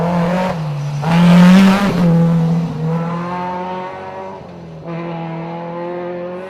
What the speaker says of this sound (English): this is the BMW of Ernie Lee and Patricia.